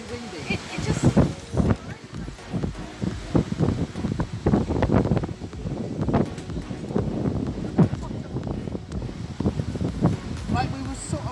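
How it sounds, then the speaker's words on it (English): Strong wind outdoors on a London street, roaring and buffeting across the microphone without a break, while people talk over it. "Oh my god, it's windy. It's very windy."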